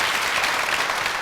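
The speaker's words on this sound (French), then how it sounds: "Je vais demander beaucoup d'applaudissements pour cette dame." Steady applause from a studio audience welcoming a woman onto a TV entertainment show, continuous clapping filling the room without a break.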